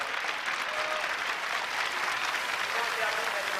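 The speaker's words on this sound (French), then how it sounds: "Florent, on l'applaudit bien" A roadside crowd at the 1980 Paris-Roubaix applauds as Florent of VC Roubaix finishes, a steady dense wash of clapping that fills the whole stretch, with a faint voice just audible beneath it.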